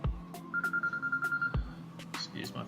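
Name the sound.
phone ringing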